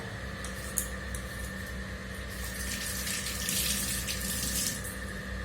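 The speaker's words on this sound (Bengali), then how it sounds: "এই যে কুকারে জল দিয়ে দিলাম" Water runs steadily into a pressure cooker during home cooking, a soft continuous trickle and splash that holds quietly for several seconds with no talking.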